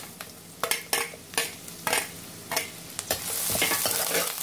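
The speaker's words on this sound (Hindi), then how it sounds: "इस तेल में डालेंगे हम ग्रीन चिली। हल्का सा फ्राई होने देंगे इसे। अब इसमें डालेंगे हम कांदा।" Green chillies and onion fry in a little oil with a spoon scraping and stirring in rhythmic strokes, each stroke a sharp close scrape over steady sizzling that builds louder toward the end.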